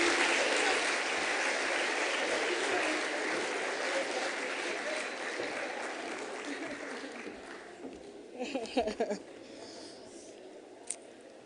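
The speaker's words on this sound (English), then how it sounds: "Let's give him a round of applause." An audience at a women in science awards ceremony applauds steadily, a sustained wash of clapping that slowly thins and fades out, with a few scattered claps and faint voices near the end.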